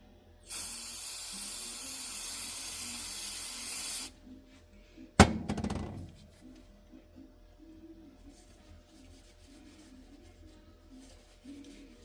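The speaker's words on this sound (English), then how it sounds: "So wiped them all down and then give them a little brake clean." Brake cleaner from an aerosol can sprayed onto axle shims from an IH Scout Dana 20 rebuild: a loud, steady hiss of about three and a half seconds, then a sharp clank, followed by quieter rustling and handling noises.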